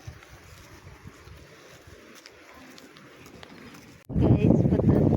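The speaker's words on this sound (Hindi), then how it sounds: "कितना हवा चल रहा है।" Strong storm wind buffets a microphone outdoors on the way to a school, a low rumbling gusty roar that is faint at first and then jumps loud near the end, with someone talking over it.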